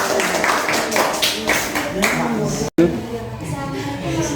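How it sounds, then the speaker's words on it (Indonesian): Students in a classroom applaud a presenting group with a brisk burst of hand claps that fades after a couple of seconds, followed by voices speaking over a quieter room. "tepuk tangan untuk kelompok 2"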